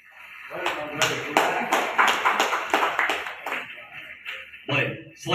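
Audience applause at the NU 101st anniversary ceremony at UNU Yogyakarta, dense clapping swelling and sustaining for several seconds in a large hall before thinning out, with a voice briefly heard near the end.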